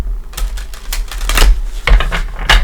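Tarot cards being shuffled during a psychic tarot reading, a run of quick papery riffles and soft slaps coming in short bursts, close and fairly loud with no talking.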